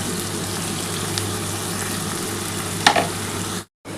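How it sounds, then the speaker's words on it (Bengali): Ivy gourd fries in a pan with onion, garlic and mustard, giving a steady close sizzle with one short stirring scrape near the end before a brief cut in sound. "পেঁয়াজের সাথে সর্ষে পেঁয়াজ রসুনের সাথে মোটামুটি ভাজা হয়ে গেছে"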